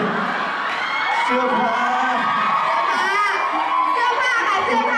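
A crowd of fans at a birthday charity event screams and cheers in a dense, continuous wash of high shrieks and whoops, loud and steady, mixed with nearby speech.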